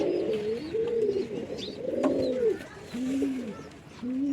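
Domestic pigeons coo in repeated low, rolling phrases close by, each call swelling and fading with short gaps between, and a few faint chirps in the background.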